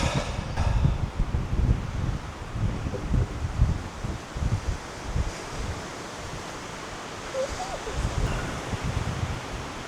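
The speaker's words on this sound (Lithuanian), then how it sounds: "Bet toks vėjas, 27 km/h greitis" Strong wind of about 27 km/h roars and buffets the microphone in continuous gusts, loud and close, with no voices.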